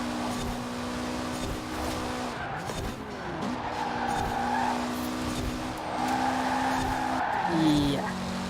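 Mitsubishi race car in Forza Horizon 4 roars under a steady engine drone with tires squealing and skidding through corners, loud and continuous, with brief talk over it.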